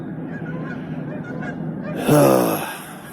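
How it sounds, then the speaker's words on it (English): Loud honking calls from Canada geese burst in near the end over a steady background murmur, a short cluster of harsh, nasal honks. "Quacking Canadian geese."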